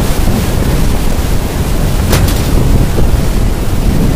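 Rushing water from a fast-flowing river beneath a bridge, a steady loud broadband roar with wind buffeting the microphone throughout, no talk.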